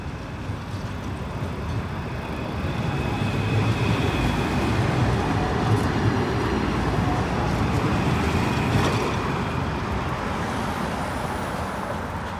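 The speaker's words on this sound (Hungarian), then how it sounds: "előbb egy CAF villamost veszünk fel" A CAF tram passes by as a steady rumble of wheels and motor that swells and lingers, with no speech.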